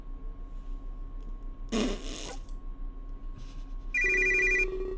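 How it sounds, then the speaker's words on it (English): A phone rings in the video game Major/Minor, a brief bright ringtone burst cutting over a quiet steady background hum, then a second electronic tone follows a couple of seconds later. "Before I can even think of responding, my phone rings."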